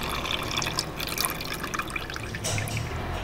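Coolant drips and trickles from the oil filter housing of a Volkswagen Jetta 2.5, a soft, steady patter of liquid heard close up with no talking.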